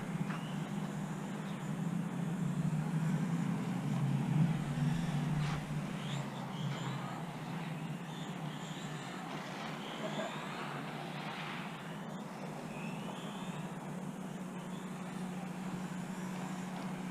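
A Porsche car drives through a parking lot, a faint, low engine rumble that swells briefly and then settles into a steady background hum with light outdoor noise.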